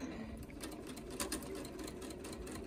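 A sewing machine runs a scant quarter-inch quilt seam, its needle chattering in a rapid, even stream of clicks, quiet and close with no talking.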